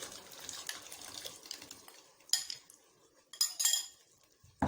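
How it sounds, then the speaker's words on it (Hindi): A spoon clinks and scrapes in a pan while banana halwa is stirred, sugar water added, giving intermittent metallic taps with a few sharper clanks, close and fairly quiet with no talk. "मुसलसल चम्मच हिलाते जाना है।"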